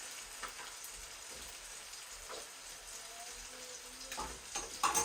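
An egg frying in a pan for a Ugandan rolex gives a soft, steady sizzle with faint crackles, quiet and continuous, with no voices.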